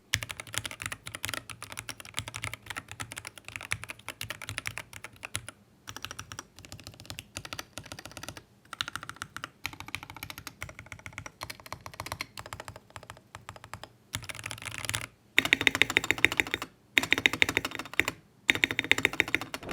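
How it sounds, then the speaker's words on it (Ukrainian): Steady typing on a Keychron K6 Pro 65% mechanical keyboard, close and clicky, with rapid continuous keystrokes and a few short pauses, the bursts growing louder near the end. "Давайте послухаємо тайпінг."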